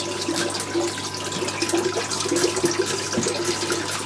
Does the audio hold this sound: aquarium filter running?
yes